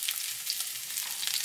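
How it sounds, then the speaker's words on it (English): Salmon fillets frying in a pan, a steady bright sizzle that fills the clip, close and loud, with faint shifts as the fish is turned. "We're going to go ahead and flip these over."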